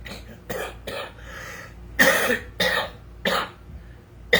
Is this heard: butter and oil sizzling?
no